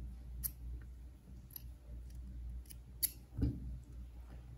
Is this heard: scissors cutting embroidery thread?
yes